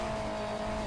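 A car boosting in the Hill Climb Racing 2 video game, a brief steady engine whine with a sustained high tone and no voices.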